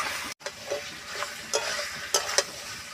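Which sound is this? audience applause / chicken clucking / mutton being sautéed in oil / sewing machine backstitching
mutton being sautéed in oil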